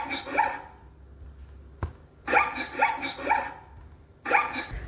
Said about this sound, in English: Zebra whines.